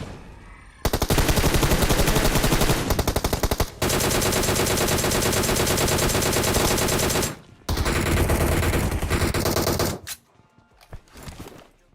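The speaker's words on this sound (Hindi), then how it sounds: "डीपी 28 का यहाँ पे मैं पूरा फायदा उठाते हुए घर के अंदर से प्री फायर देते हुए जाता हूँ" DP-28 light machine gun firing in Battlegrounds Mobile India: loud, sustained automatic bursts from close range, broken by brief pauses, then a few scattered shots as the firing tails off.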